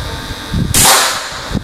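A single sharp air rifle shot cracks loudly and close, with a short bright burst and a quick decay in an outdoor target-testing session.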